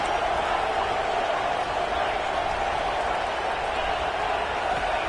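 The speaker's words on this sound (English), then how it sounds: "Third down and the crowd really getting into it." A packed football stadium crowd roars on a third down, a loud, dense, unbroken wall of cheering and clapping that holds steady from start to finish.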